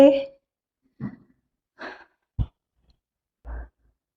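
Breath pushed out during a yoga sun salutation in a beginners' class, heard as several short, separate exhalation bursts spaced about a second apart, fairly close and soft, with silence between.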